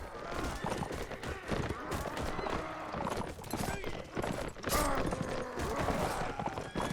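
Horse gallops with rapid clip-clopping hooves and neighs in a Mount & Blade Warband mod battle, with weapon clashes and shots in the mix and someone talking over it.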